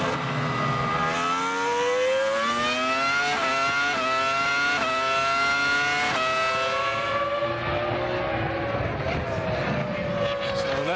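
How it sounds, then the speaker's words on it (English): Formula One cars from the 2000 Austrian Grand Prix at the A1-Ring scream past with loud, high-revving V10 engines. Rising notes break at repeated upshifts before the pitch settles lower as they pull away, under constant crowd and track noise. "Button still in a fine 5th place, battling away with a car with little aerodynamics"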